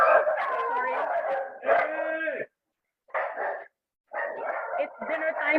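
Dog yipping and barking excitedly around dinner time in short bursts, with whiny, vocal barks separated by brief silences, close by and mixed with a nearby voice.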